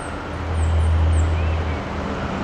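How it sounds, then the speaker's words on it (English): Trucks passing along a nearby road, a low rumbling swell that builds and fades over a couple of seconds, steady traffic noise outdoors with no talking. "have a fair share of trucks going by, as you can hear"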